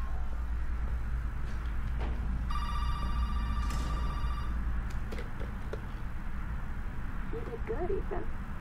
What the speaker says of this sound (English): Oh, that phone's coming from here.